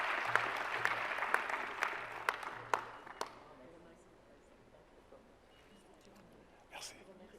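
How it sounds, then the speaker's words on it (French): Audience applause at an award presentation during a women's forum on women in STEM: dense clapping from a large crowd fills the first few seconds with sharp individual claps, then thins and fades into quiet room tone, with a brief late swell. "On peut quand même les applaudir."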